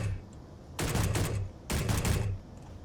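Pistol gunfire in the video game Space Engineers, two quick bursts of rapid shots, each lasting under a second with a short gap between, loud and close with no speech.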